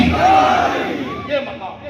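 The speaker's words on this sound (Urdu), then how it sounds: "اب آواز اٹھا کر بولو حیدر، حیدر، نعرہ حیدری۔" A large gathering at a Shab-e-Barat sermon shouts the religious slogan Haidar, Nara-e-Haidari in unison. The voices make a loud, brief swell, then a second shorter surge, in a reverberant space.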